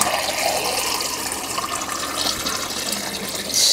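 Small reverse osmosis faucet at a kitchen sink, part of a Water Saver 75 system with a 3/8-inch line, quickly filling a water glass: a steady close rushing pour of water for several seconds, slightly rising near the end.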